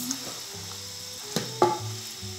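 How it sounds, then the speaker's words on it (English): Chopped capsicum and onions sizzle as they fry in a pan while being stirred, with a few scraping clinks of the spoon over a steady low crackle. "So I'll just mix the hoho and the onions."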